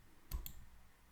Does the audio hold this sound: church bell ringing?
no